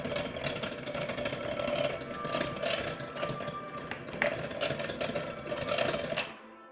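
An electric mixer beats thick rose velvet cupcake batter in a bowl, giving a steady, whirring motor drone with a rattling edge that continues throughout before stopping near the end.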